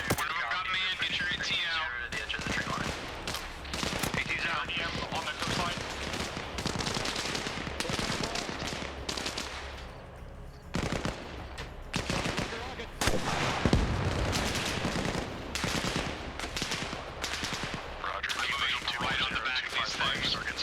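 Machine gun fire from Arma Reforger during a squad firefight in the Scottish countryside: repeated rattling bursts and single cracks, some close and some farther off, come in uneven clusters across the whole stretch.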